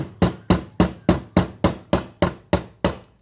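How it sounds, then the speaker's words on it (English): Ten sharp, evenly spaced hammer blows ring out on metal, shutting the end of an arrowhead piece, each strike loud and close with a brief decaying ring. "You're hammering shut the end"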